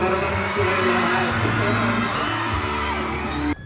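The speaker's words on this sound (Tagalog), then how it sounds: "Gani, todo hiyawan ang fans." Fans at a Kapuso event in Davao scream and cheer for actor Derrick Monasterio, a steady crowd roar mixed with music playing underneath, cutting off abruptly at the end.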